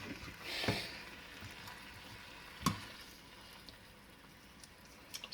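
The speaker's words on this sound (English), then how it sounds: "Stir fry's pretty good because you can just literally throw anything in them" A stir fry of vegetables sizzles softly in a pan, a faint steady hiss with a couple of brief clanks from stirring, quiet and close.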